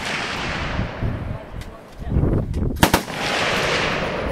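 Homemade can mortar packed with gunpowder and concrete fires outdoors, one sharp loud blast over steady wind noise, followed by a brief rumbling echo.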